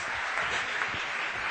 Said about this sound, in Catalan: tornem a fer un aplaudiment i et felicitem l'aniversari